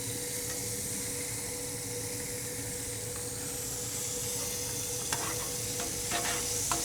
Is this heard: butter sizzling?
yes